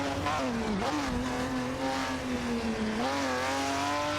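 Race cars in a racing video game hold a steady high engine whine that dips and climbs with gear changes and braking, loud and continuous, with faint voice underneath.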